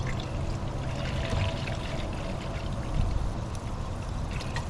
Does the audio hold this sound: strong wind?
no